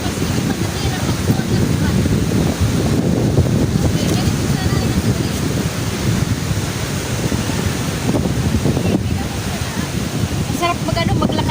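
Wind and high-tide waves on a Pacific Ocean shore make a loud, continuous roar. Gusts buffet the microphone throughout the walk along the water's edge, and faint voices are barely audible beneath.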